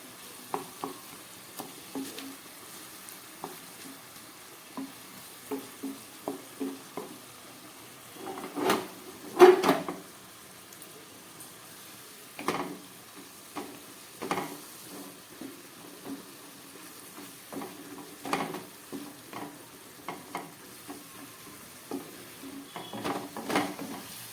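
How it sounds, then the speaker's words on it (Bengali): Chicken with spices frying in mutton fat over medium gas, a soft sizzle punctuated by frequent spatula scrapes and clinks against the pan, near and fairly quiet, with no talking. "এবার আমি এটাকে একটু হালকা করে ভেজে নেব।"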